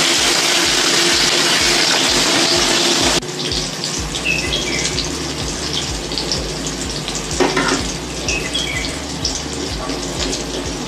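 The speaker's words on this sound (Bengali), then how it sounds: "এবার আমি মাছের ডিমটা ভেজে নেব।" Fish roe fries in hot oil in a kadai with a loud, dense, close sizzle that hisses strongly for the first few seconds, then settles to a quieter crackling fry with scattered pops.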